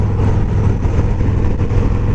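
Harley-Davidson 2017 Road King motorcycle with ape hanger bars, its engine running with a steady, loud low rumble throughout, close and continuous with no voices.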